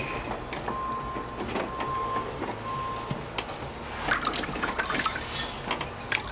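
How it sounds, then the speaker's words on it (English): A hand-crank wringer squeezes water from wet laundry outdoors, making a squeaky, uneven mechanical grind with trickling, dripping water. Brief clicks and splashes stand out near the end. "This hand crank water wringer is so worth it."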